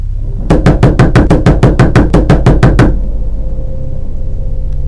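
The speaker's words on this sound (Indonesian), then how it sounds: "ketukan demi ketukan terdengar semakin keras" Rapid wooden knocking from a horror animation, about fifteen hard, evenly spaced knocks in a loud burst lasting a few seconds, then stopping and leaving a low eerie hum.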